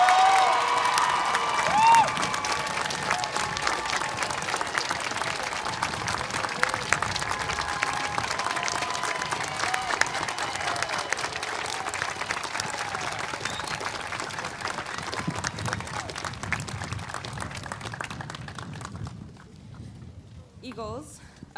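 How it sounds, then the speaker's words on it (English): Audience at the Los Altos High School 2023 graduation gives a long round of applause, sustained crowd clapping with some cheering that gradually thins out and fades near the end; voices are heard in the crowd. "I would like everyone to stand up and give one round of applause filled with gratitude to Miss Satterwhite."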